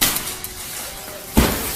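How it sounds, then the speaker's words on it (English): Window glass on a third-floor window smashes with a sharp, loud crash after a quiet, low-level stretch, followed by a short ringing tail. "forced through a 3rd floor window, smashing the glass"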